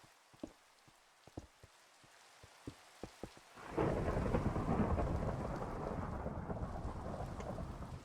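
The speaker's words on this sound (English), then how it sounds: "Lightning strikes, bless it." Minecraft thunderstorm: a few sharp raindrop ticks at first, then a loud roll of thunder breaks in and heavy rain keeps up steadily to the end, with no voices.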